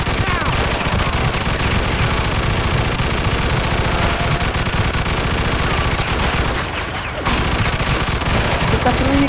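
Dense, continuous gunfire from a 1945 war video game, a steady roar of overlapping shots and bursts, loud and unbroken apart from a brief dip near the end.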